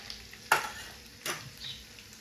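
Turmeric and red chili powder stirred into oil in a pan for a paneer curry, two distinct spatula scrapes over a faint sizzle, close and quiet, no voices.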